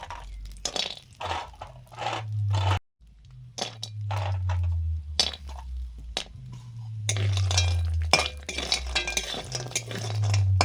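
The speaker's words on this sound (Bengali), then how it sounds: "এবার বড়িগুলো ভাজছি।" Lentil dumplings (bori) frying in a pan for a fish and potato curry, with repeated stirring scrapes and light utensil clinks over a steady low hum, close and moderately loud.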